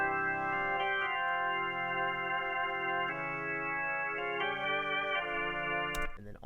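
Filtered organ tones, the left-side parts of the organ panned left and center in a mix, hold steady sustained chords that shift a few times before cutting off near the end.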